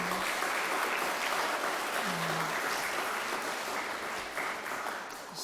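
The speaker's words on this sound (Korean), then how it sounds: "박수로 한번 축복하십시다" Applause from a church congregation honoring the choir at an anniversary service, a steady dense patter of clapping sustained throughout, fairly soft and slightly distant, easing a little near the end.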